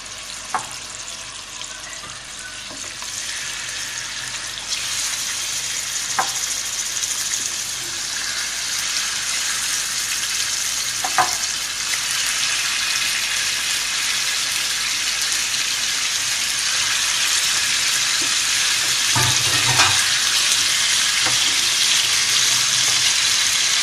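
Chicken frying and being stirred in a karahi, a steady close sizzle filling the whole stretch with occasional scrapes and clinks of the spoon against the pan, no voices.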